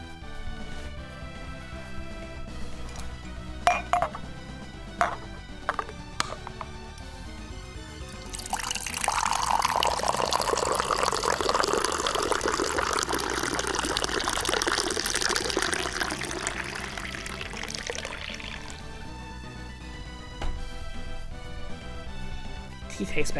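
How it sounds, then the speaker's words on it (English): Tea poured in Golden Sun: The Lost Age, a steady broadband liquid gush lasting about ten seconds over game music, louder than the surrounding soft melodic tones and brief clicks. "Tea tastes better when you pour it confidently."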